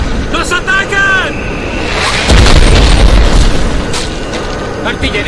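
Artillery shells burst in the Crysis Remastered war game, a heavy boom swelling midway and rumbling on amid battle noise, with a shouting voice in the mix.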